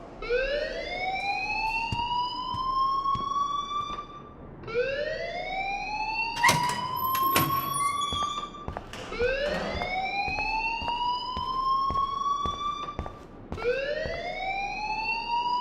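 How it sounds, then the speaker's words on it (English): A school alarm in the video game Life Is Strange wails in a loud, rising siren-like sweep that repeats roughly every four to five seconds, with a few brief clanks between cycles and no talking. "please turn off that alarm since that's your job"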